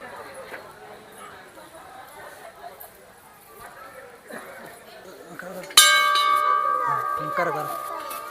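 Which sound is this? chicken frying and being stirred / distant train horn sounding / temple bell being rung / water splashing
temple bell being rung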